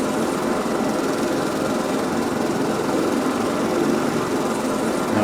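A gyrocopter engine running in a video game, a steady buzzing drone like a small light engine, loud and unbroken throughout with no talking over it.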